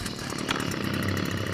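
A loud, close motor drone from a running garden trimmer, steady and harsh throughout with no voices.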